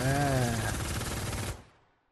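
Continuous rapid gunfire in a mobile video game, a dense unbroken rattle under a voice speaking, cutting off abruptly near the end and leaving silence.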